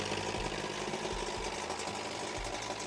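Pontoon boat outboard engine left running after the gas line is disconnected, a steady mid-pitched idling drone with faint knocking pulses, continuous and moderately close with no talking.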